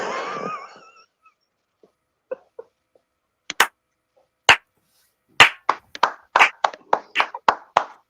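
A voice sounds briefly at the start, followed by near silence, then a few isolated hand claps build into a run of sharp, close claps from a small group, spaced and uneven rather than a full crowd.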